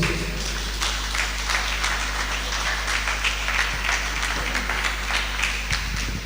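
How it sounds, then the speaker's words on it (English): An audience at a World Breastfeeding Week 2025 talk gives a round of applause, steady and fairly distant, over a constant low hum. "Please, let's give another round of applause for that."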